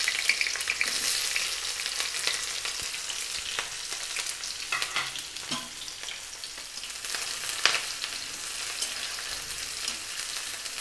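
Onion, four to five green chilies and five to six garlic cloves frying in hot oil for a bhujiya, giving a steady close sizzle with crackling bursts and occasional stirring, no talk.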